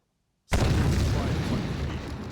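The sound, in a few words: explosion in video game Terminator: Dark Fate - Defiance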